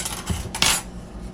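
A utensil scrapes and clanks against a pan while onions seasoned with Old Bay are stirred for a salmon, pepper and tomato sauce, two brief close scrapes, the second louder.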